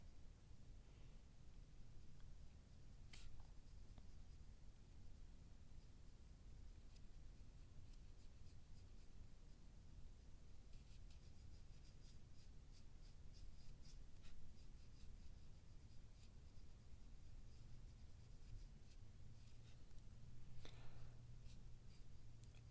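Steady scratchy watercolor pencil strokes on paper, close and continuous, with faint room noise underneath and no talking.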